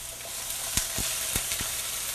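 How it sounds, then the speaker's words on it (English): Food sautéing in a hot pan, a steady close sizzle and hiss with a few soft stirring knocks and scrapes. "we're going to do is just saute these in the pan"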